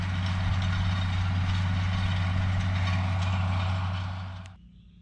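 A 1982 GMC fire truck with a Detroit diesel idles close by, giving a steady, heavy low rumble that runs evenly and then cuts off abruptly near the end.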